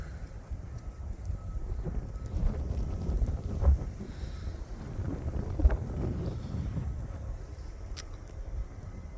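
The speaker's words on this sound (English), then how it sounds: "See, it's still very windy." Strong gusting wind during a lake effect snowstorm with blowing and drifting snow in Valparaiso, Indiana, heard as a constant low rumble buffeting the microphone, swelling and easing in gusts, with no voices.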